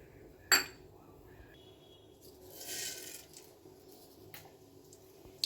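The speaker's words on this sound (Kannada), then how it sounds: "ಸಾಂಬಾರು ಬಾಂಡಿ ಇಟ್ಟಿದ್ದೀನಿ" A metal sambar pot is set down on a home kitchen stove while Mandya-style drumstick-leaf saaru is being made: one sharp, close metallic clank near the start, then quiet with faint scraping and a soft rustle.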